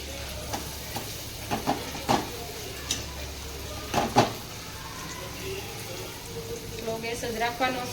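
Hot oil sizzles softly in a pan while garlic chutney cooks, with scattered utensil scrapes and clinks against the pan; no talking.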